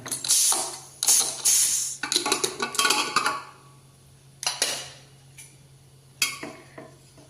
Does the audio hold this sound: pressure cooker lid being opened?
yes